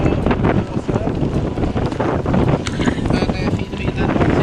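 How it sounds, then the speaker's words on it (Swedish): Strong wind buffets the microphone in gusts over rushing water and the creak of a sailboat at sea, with rain adding a constant hiss. "Det regnar och blåser."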